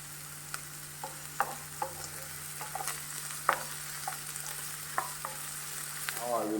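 Onions sauté in a pan for vegetable pulao, giving a steady close sizzle and frying crackle with scattered pops and utensil ticks throughout, no voices.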